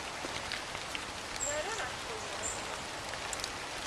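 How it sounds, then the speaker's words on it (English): Light drizzle falling in an English organic vineyard among Reichensteiner grapevines, a soft steady patter of fine drops with faint brief chirps, quiet and continuous throughout. "It's a little bit wet today. Drizzling from beginning on"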